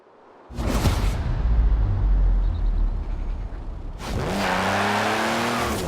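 A car engine in the video game Forza Horizon 4 roars loudly and steadily, then revs up with a rising pitch toward the end, with no voices.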